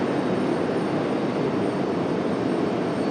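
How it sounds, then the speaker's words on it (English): An executive jet approaching Raleigh-Durham International Airport gives a steady, broad roar that holds at an even level throughout, fairly close and with no voices. "We've got an exec jet coming our way next."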